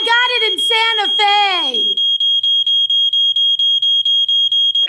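A defective smoke detector gives a rapid string of sharp, loud, evenly spaced high-pitched beeps, preceded by a voice speaking close up before the alarm takes over.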